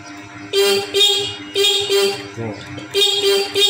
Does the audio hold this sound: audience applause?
no